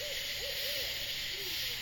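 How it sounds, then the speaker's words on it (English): An owl gives a short series of soft, distant hoots at night near a graveyard, spaced a fraction of a second apart over a steady hiss of insects and ambient noise. "Is that an owl?"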